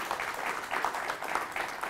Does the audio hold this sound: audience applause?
yes